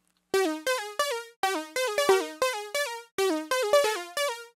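A synth pluck with envelope-controlled LFO modulation plays a quick melodic phrase, each bright note starting with a short pitch bend before settling, in short bursts of notes with brief gaps, clean and alone.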